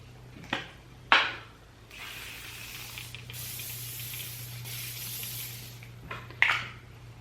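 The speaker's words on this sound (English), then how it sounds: "So this was the Kenra Perfect Medium Spray." Kenra Perfect Medium hairspray is sprayed onto a short pixie hairstyle in several bursts: two quick hisses, then one long steady spray of a few seconds, then a final short burst, all close and fairly quiet over a low background hum.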